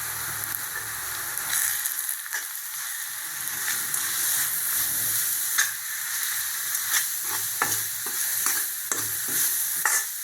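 Chicken with chili powder, coriander powder and salt stirred and frying in a pan, a steady close sizzle broken by repeated scraping stirs throughout, with no voices.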